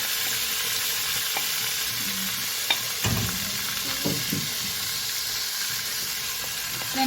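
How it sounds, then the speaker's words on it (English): Onions sizzle in hot oil in a saucepan as a utensil scrapes and stirs them, a steady soft frying hiss broken by intermittent scraping clatter, close up with no talking. "Heat oil in a saucepan. Add onions and scrape."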